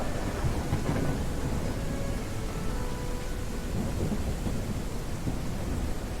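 Steady rain pours down with rolling thunder in a video game storm, a dense, continuous wash of noise throughout with no distinct claps standing out.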